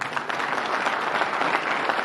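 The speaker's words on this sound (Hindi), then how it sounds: "एक बार जोरदार तालियां" An alumni-meet crowd claps loudly and steadily for a 1995-batch former student called to the stage. The dense applause fills the whole moment with no voice over it.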